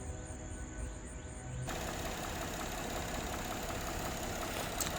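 A 2017 Buick LaCrosse engine, fresh from new spark plugs and coils, turns over and catches at about two seconds, then settles into a steady, even idle that runs on alone and fairly close.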